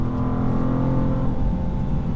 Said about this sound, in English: You've got an auto blip feature.